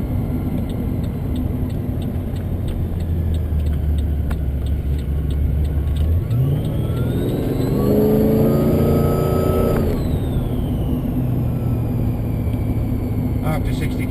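Engine of a 650 rwhp VE SSV ute with a T400 automatic revs and rises in pitch as the car accelerates and the gear changes, a loud rumbling drone inside the cab with someone talking over it.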